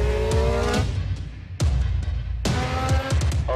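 Formula 1 race car on the Red Bull Ring, engine roaring loud and close with rising revving harmonics, cut by two sharp gear-shift breaks before pulling hard again.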